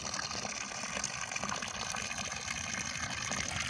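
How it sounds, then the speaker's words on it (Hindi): Water gushes steadily into a container, a continuous splashing rush at moderate level with no voices. "और ये मैंने पानी भर लिया"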